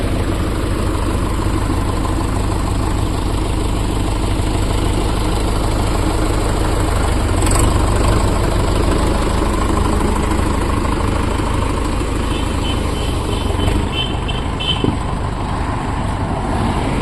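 A Mahindra tractor engine idles at a showroom, a steady, loud low drone that holds evenly for the whole stretch with no voices over it.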